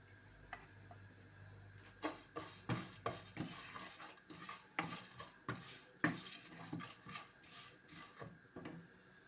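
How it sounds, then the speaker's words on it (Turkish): Liver cooking in a pan with oil, a faint low sizzle beneath a rapid series of sharp scraping and clinking strokes of a utensil against the pan. "Ciğerler pişiyor."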